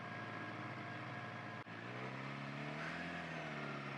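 A powerful motorcycle's engine rises in a revving pitch as the rider gives it gas, a steady loud drone with a brief dip midway before climbing again.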